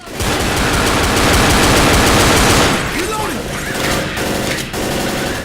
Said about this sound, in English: I started using double pistols for some reason.